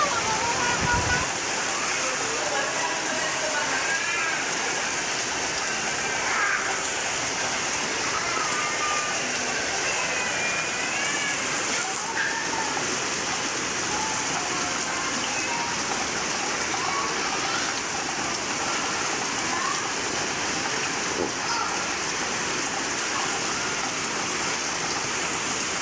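Heavy rain and strong wind pour down on a school in a dense, continuous hiss like a downpour on a roof, with a faint voice talking now and then beneath it.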